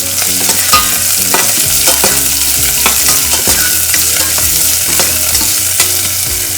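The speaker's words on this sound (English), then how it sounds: "I'm adding onion and just give a mix." Onion fries loudly in a pan for cracked wheat rawa upma, with repeated scrapes and clatters of stirring over a constant sizzle.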